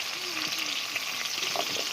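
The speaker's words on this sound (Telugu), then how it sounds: "ఇంకా టమాటా, ఉల్లిగడ్డ కొంచెం ఫ్రై కావాలి." Chopped onions and tomatoes fry in a pan, with steady close sizzling and occasional stirring scrapes; no one speaks over it.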